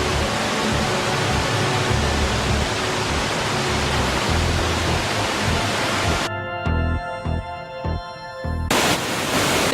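A waterfall rushes with a loud, dense, steady roar for several seconds, then abruptly gives way to a brief stretch of tonal electronic beeps before the roar returns.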